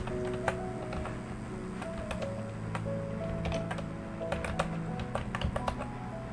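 Keys tapped on a computer keyboard at a slow, steady pace, with sharp, fairly quiet clicks scattered through the stretch and no talking.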